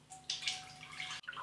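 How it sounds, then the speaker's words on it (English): Milk is poured into a pan, a brief splashing, trickling stream that starts abruptly, runs for about a second with a faint steady hum behind it, then cuts off. "Next up, pour the milk into a pan."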